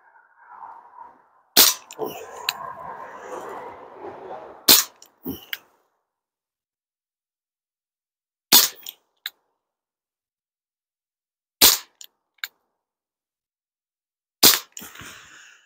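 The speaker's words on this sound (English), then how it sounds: "shooting pistols is not easy" Webley Mk 6 revolver fired at a target, five sharp single shots spaced several seconds apart, loud and close, with a stretch of low background noise before the second shot.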